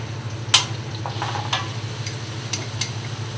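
Spices, including fennel seed powder and black and white pepper, being stirred as they fry in a pan, with a few scraping clicks from the utensil over a soft sizzle and a steady low hum.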